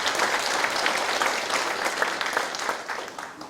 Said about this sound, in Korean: 칭찬 박수를 한번 보내주시면 좋겠습니다